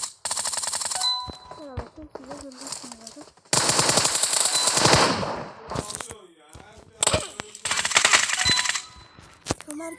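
A Groza rifle fitted with a 6x scope fires in a video game, sounding as repeated rapid automatic bursts separated by short pauses, loud and close, mixed with other game sounds and a faint voice.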